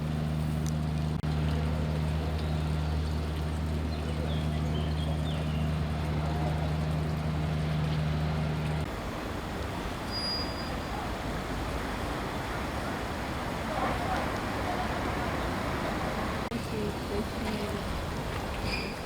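A tourist boat engine hums low and steady for several seconds on the Douro river in Porto, Portugal, then gives way to wind and lapping water on the open river.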